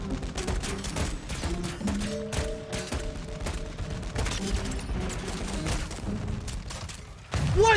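Lachmann Shroud submachine gun fire in Warzone 2, dense rapid bursts of automatic shots almost continuously through the game mix, loud and close, with a brief drop before one last burst.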